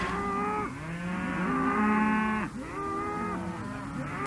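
Cattle mooing on open Western rangeland, a run of long, loud, drawn-out lowing calls following one another with a brief break partway through, close by and with no talk.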